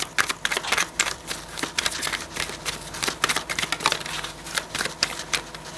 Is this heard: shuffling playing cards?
yes